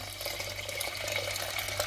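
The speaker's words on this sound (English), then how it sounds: "And then I will add water," A steady stream of water pouring into a pot of rice, running and splashing continuously, close up, with a constant low hum underneath.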